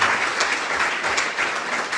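A church congregation breaks into applause, a dense, fairly loud wash of many hands clapping together that holds steady for a couple of seconds.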